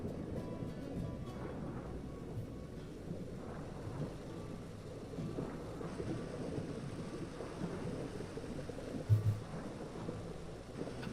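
Thunder in the survival game Vintage Story rolls as a long, low, steady rumble over falling rain, swelling briefly into a sharper crack near the end, with no voices.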